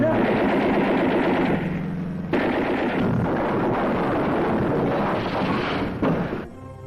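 Rapid machine gun fire from a WWII film scene of a Japanese attack, sounding as a continuous loud rattling burst mixed with roaring battle noise, with voices talking over parts of it.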